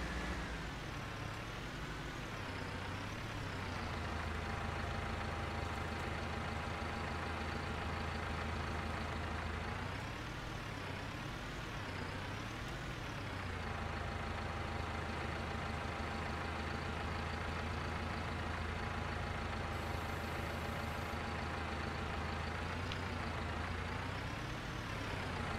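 A tractor engine drones continuously while hauling a loaded hay trailer, a loud steady rumble with slow rises and falls in pitch as the load is pulled, with no voices over it.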